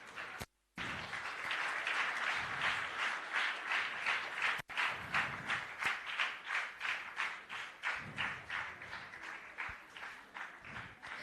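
An audience at a book-launch ceremony claps for young school students. After a brief pause, the clapping settles into a strong, rhythmic beat of loud, evenly spaced claps in unison that carries on throughout.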